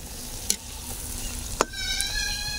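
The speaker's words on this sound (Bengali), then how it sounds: "তো যাই বলি না কেন সবগুলো পিঠা আমি এভাবেই ভেজে নেব।" Palm-fruit malpoa pitha frying in oil, a close steady bubbling sizzle with a couple of sharp utensil clicks.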